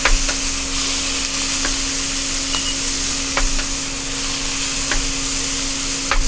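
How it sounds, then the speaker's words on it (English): A tablespoon of butter and fresh rosemary sizzle loudly and continuously in a pan alongside filet mignon, a dense steady frying hiss with occasional faint pops and spatters. "I'm gonna go ahead and drop about a tablespoon of butter in there"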